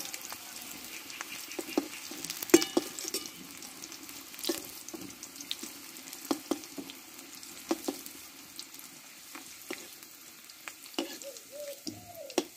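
Browned potato pieces for alur dom sizzle and crackle in hot oil as they are stirred and lifted out, with scattered utensil knocks and scrapes over a continuous frying hiss.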